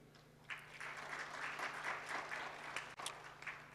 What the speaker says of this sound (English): So please give a round of applause to our last speakers.